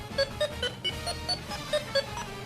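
A run of short electronic beeps from a DX G Brace Phone toy replaying its keypad tones at an even pace, eight or so tones of slightly different pitch, clear and close with no talking.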